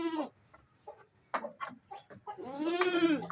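Goats bleating on a farm, several short calls from nearby followed by one longer, louder wavering bleat, with no talk.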